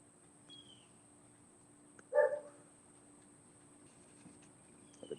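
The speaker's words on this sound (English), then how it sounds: "The dog barking." A single dog bark rings out at a moderate distance outdoors on an otherwise quiet afternoon, with faint background hum and little else.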